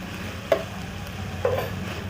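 Chopped vegetables, including capsicum and carrot, fry gently in a covered pan with a soft, steady sizzle and two brief stirring clinks, no voices.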